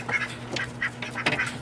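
Ducks quacking at a backyard duck pond, several short nasal quacks in loose bursts, fairly close and clear over a steady low hum.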